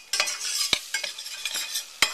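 A utensil stirs a flour and butter roux in a hot pan for bechamel sauce, giving a soft sizzle broken by sharp scraping clicks at an uneven pace.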